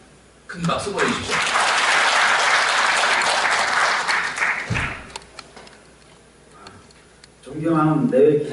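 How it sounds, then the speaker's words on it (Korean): Applause from an audience at a fan club launch ceremony in a civil defense education hall in Gumi, Korea, a dense burst of clapping lasting several seconds, fading out, with a voice speaking briefly afterward. "큰 박수 보내주십시오"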